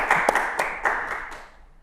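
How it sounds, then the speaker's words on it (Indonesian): A small studio audience claps in a short burst, about half a dozen sharp, uneven clusters of hand claps that fade out after a second and a half. "Tepuk tangan lagi dong guys."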